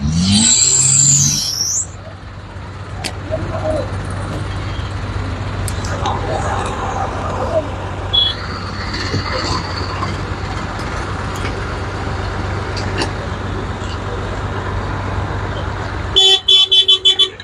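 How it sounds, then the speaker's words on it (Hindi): Traffic moving along a Jammu national highway near a toll point, some vehicles going the wrong way, with a steady road rumble and a few horn toots; a voice speaks at the start and the rumble continues throughout. "ये देखिए उल्टी गाड़ियां भी चलती हैं यहाँ पर"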